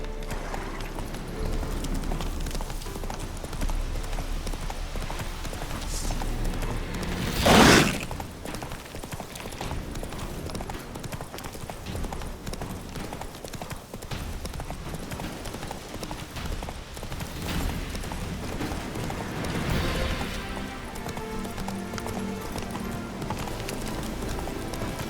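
Horse hooves galloping in The Witcher 3, a steady rhythmic clip-clop running throughout over game ambience, with one brief loud burst near the middle.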